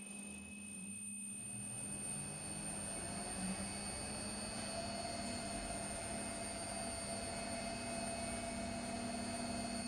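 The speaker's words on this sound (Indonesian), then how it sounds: "Tekan tombol putar balik di bagian atas panel untuk menjalankan motor secara terbalik." Electric motor driven by a DT-type VFD inverter and running in reverse, a steady, faint whine with a constant high tone and a low hum, continuous and even throughout.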